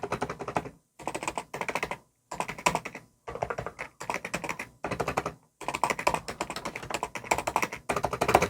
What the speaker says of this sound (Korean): 윤활이 좀 많이 날아간 스테빌라이저의 소음에 가까운 소리를 한번 들어보시죠